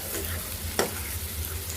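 Taro root in tamarind curry cooking in a pan, a soft continuous sizzle and bubble at low level with one brief stir or clink in the middle.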